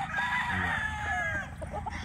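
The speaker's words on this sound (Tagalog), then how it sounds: "Sa sobrang daming manok" Boston Roundhead pullets and other chickens in a yard, with a rooster crowing over a dense chorus of clucking fowl, close and continuous.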